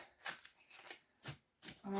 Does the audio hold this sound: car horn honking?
no